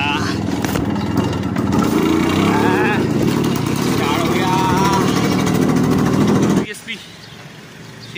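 A Yamaha motorcycle engine starts and runs with a loud, rough, throbbing idle close by, people talking over it, before it cuts abruptly near the end.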